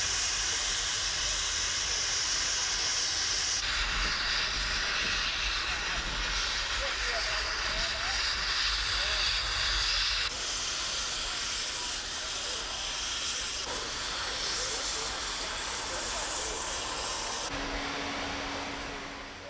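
Steam locomotive venting a loud, steady hiss of steam that fills the whole stretch, with shifts in intensity and a brief tonal hum near the end, recorded close by.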